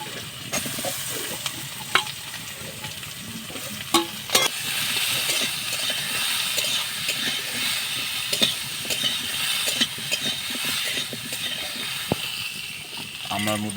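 Crushed hog plums and a bay leaf sizzle steadily in a hot pan of oil for a village-style Bengali chutney, with scraping stirs and small clicks recurring throughout, close and continuous.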